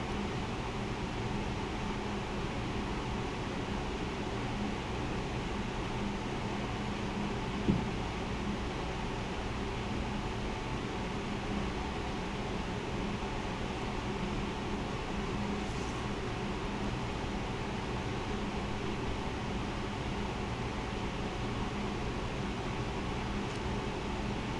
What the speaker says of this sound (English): You want to turn the fish over at least once when you're frying it.